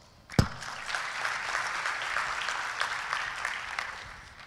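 Conference audience applauding to welcome panelists at a startup event, a sharp bang at the start, then steady clapping that slowly tapers, moderately distant.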